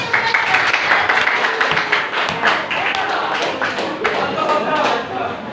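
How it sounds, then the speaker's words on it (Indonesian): A classroom of students claps together after a group presentation, a dense, steady patter of many hands that fills the whole stretch at close range with no pause. "Beri tepuk tangannya dulu."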